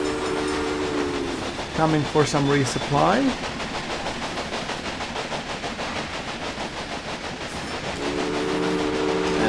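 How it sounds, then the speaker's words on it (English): Trains roll past in the video game Railway Empire with a steady rhythmic clickety-clack. Horn tones sound near the start and again at the end, and someone talks over part of it. "Let's take a look at the passing trains,"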